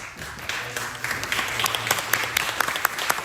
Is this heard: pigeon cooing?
no